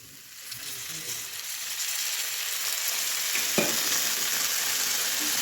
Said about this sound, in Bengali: এখন আমি অল্প একটু জল দিয়ে মশলাগুলোকে ভালোভাবে কষে নেব